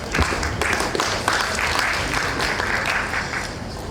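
Sustained applause from an audience at a World Soil Day opening ceremony, a dense, even wash of clapping that carries steadily throughout.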